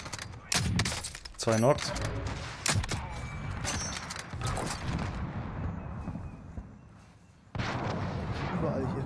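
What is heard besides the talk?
gunfire shooting at the player in the video game Call of Duty: Warzone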